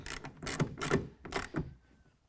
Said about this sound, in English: then we're going to go ahead and tighten it down. We're going to use a 1/2 inch socket,